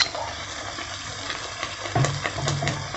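Onions sautéing in a pan give a steady close sizzle, and a few sharp scrapes and clinks of a spatula against the pan come toward the end.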